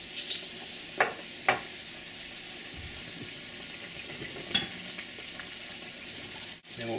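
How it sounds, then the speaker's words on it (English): Battered fish for crispy fish tacos frying in hot oil, giving a steady bubbling hiss that swells as pieces go in, with a few utensil clicks and no one talking. "We're going to put it in the oil."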